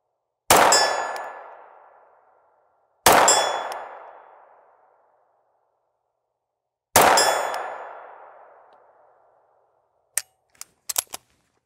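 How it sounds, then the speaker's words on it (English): 9mm 115-grain full metal jacket rounds from a SIG 226 pistol strike a steel target: three loud ringing clangs spaced a few seconds apart, each decaying slowly, followed by a few faint quick clicks. "I'll put some rounds on target with this SIG 226 firing 115 grain full metal jacket"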